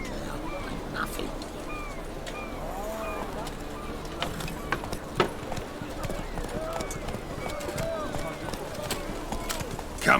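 Galloping hooves of the horse Roach in a video game: a steady clip-clop rhythm under a busy bed of ambient game sound, with bird-like calls scattered throughout.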